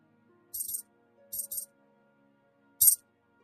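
Silver coins drop and clink in a cartoon sound effect, three short bright jingling bursts separated by brief quiet gaps, close and clear with no talking.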